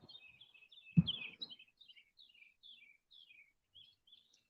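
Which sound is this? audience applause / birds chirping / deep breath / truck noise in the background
birds chirping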